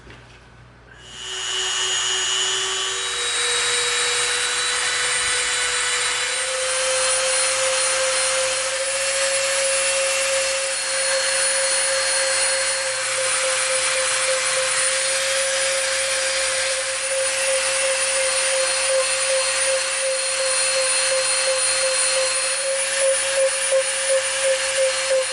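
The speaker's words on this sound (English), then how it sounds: "now we're gonna get our Dremel out" Dremel rotary tool rounding off the edges of EVA foam for a mace prop, a high steady whine that spins up at the start and holds for over twenty seconds, close and loud, grinding texture underneath, no talk.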